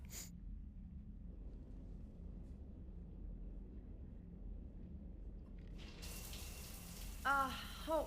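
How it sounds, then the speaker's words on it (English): Shower running in Mass Effect 3, a quiet hum that suddenly opens into a steady hiss of spraying water, with a few brief tonal chirps near the end. "I figured you'd be more interested in a shower."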